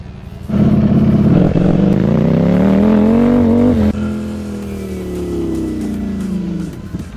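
A motorcycle ridden with traction control set to its maximum-intervention mode 8 during a safety-system test: a loud, close engine drone that climbs in pitch, cuts sharply, then settles into a steadier, gradually falling tone.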